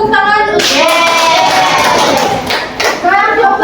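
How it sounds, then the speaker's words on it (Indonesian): Classroom applause, a burst of clapping from students mixed with voices and cheering, fairly loud, starting after a moment of talk and fading near the end. "kasih tepuk tangan"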